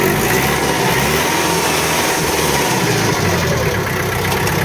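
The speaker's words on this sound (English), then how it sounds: "Rev the engine up right there." Ford Long Landtrac 36hp compact tractor engine held at a steady, loud revved-up drone close by, continuous throughout with no talking over it.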